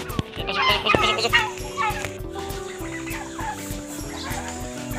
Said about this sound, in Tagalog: Ang ganso.